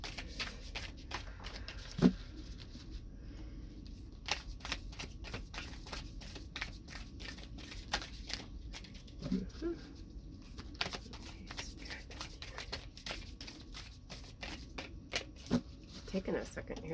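Tarot cards being shuffled by hand in a dense, steady stream of crisp riffling flicks and slaps, close and continuous, with a few louder knocks and soft voice in the background.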